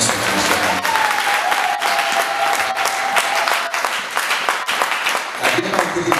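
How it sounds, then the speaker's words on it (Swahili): A church congregation applauds loudly and steadily at a general meeting of a Dodoma church led by the archbishop. The clapping is sustained and dense, and a voice speaks briefly under it. "Makofi kwa Bwana Yesu."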